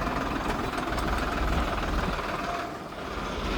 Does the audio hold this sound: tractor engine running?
yes